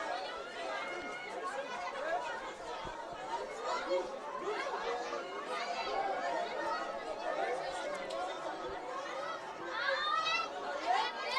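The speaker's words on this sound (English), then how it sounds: "Crowd enjoying" A rugby crowd at Buffalo Park, for the Progress RFC versus Buffaloes derby, gives off steady chatter and murmuring voices with occasional louder rises, continuous throughout the clip.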